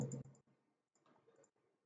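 A few soft, quick computer mouse clicks near the microphone, spaced unevenly across a short quiet stretch without speech.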